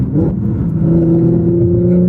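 A Nissan GTR engine revs loud and close, holding a steady, rising drone for about two seconds with no voices over it.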